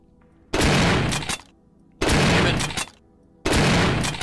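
Gunfire in the video game inSanity comes in three loud, sustained bursts of rapid shots, each lasting about a second, separated by short quiet gaps.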